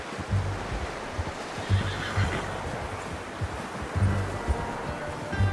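A horse whinnies in the Red Dead Redemption 2 video game, with repeated low snorts and hoof thuds. Wind and surf-like ambience hiss steadily underneath.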